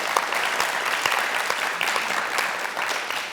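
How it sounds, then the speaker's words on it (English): Audience applause during a public conversation with novelist Orhan Pamuk, a steady, moderately loud round of many hands clapping with a few crisp individual claps. "Oui, ça mérite des applaudissements"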